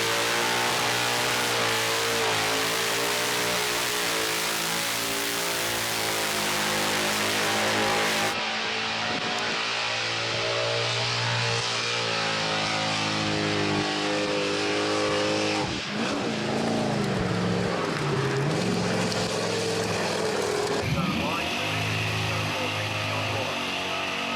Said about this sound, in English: You must think it's a burnout comp.